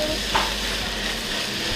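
Eggs seasoned with salt and black pepper stir-fry for Chinese fried rice, a continuous close sizzle with light scraping of the spatula, no talking.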